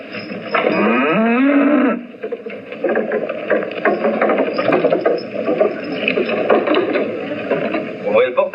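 A low, drawn-out moo rises near the start, followed by steady rumbling background noise with faint talk mixed in.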